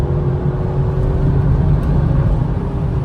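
Audi RS6 in Nardo grey accelerating hard on the Autobahn, a loud, steady engine roar and road drone heard from inside the car, continuous with no talk.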